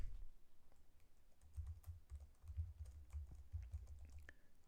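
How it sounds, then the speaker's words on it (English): Slow typing on a computer keyboard, soft separate key presses at an unhurried, uneven pace, close and quiet with no voices. "I'm gonna try typing a little bit slower"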